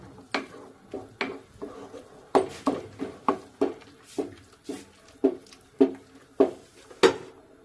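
Tomatoes are stirred in a metal pan for pav bhaji, a spoon clinking and scraping against the pan in a steady series of about fifteen sharp, evenly spaced knocks, close and fairly loud, with no talk.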